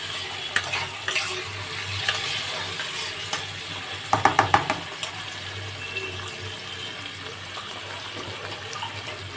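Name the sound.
onions frying with fish oil in pan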